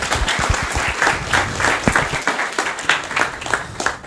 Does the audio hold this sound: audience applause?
yes